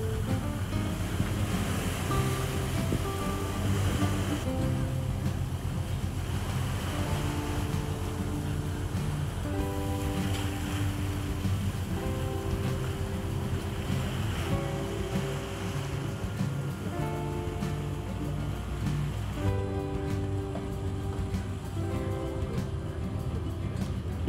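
The ferry KMP Siginjai cruising at sea, slowing down, with a constant low engine rumble and the wash of waves and wind against the hull. Faint voices and tonal sounds drift over the steady roar.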